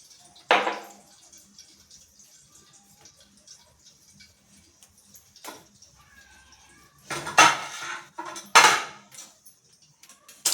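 Dishes and metal cutlery clatter as a spoon is fetched for mixing in a home kitchen, with a sharp clink near the start and two louder bursts of rattling near the end, separated by quiet gaps and faint background noise.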